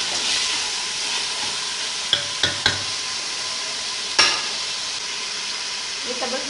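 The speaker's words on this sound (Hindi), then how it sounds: "अब इसको थोड़ा सा हम ब्राउन करेंगे, अदरक और लहसुन को।" Ginger and garlic sizzle steadily in a hot pan for daal, with a few sharp clicks of a spoon against the pan and a soft, continuous frying hiss throughout.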